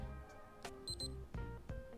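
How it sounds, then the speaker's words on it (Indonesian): Electronic beeps from a Casio CA-53WF calculator watch marking the hour, a handful of short, thin chirps close by in a quiet room, some doubled in quick succession. "signal itu adalah bunyi beep setiap pergantian jam."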